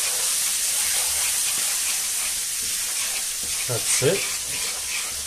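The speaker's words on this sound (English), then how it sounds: "I'll add a little bit of water to this. Hey, lovely sizzling noise." Steady sizzling and hissing as water hits a hot pan of rice and peas, with a brief voice and a few stirring clatters near the end.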